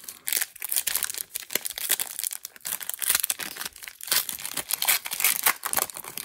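A Panini trading card pack is torn open with close, crisp crinkling and ripping of foil wrapper, delivered in quick irregular bursts with no talking.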